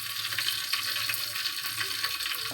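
Hilsa fish oil sizzling hot in a cooking pan for a curry, a steady, close crackling hiss that fries continuously without a break.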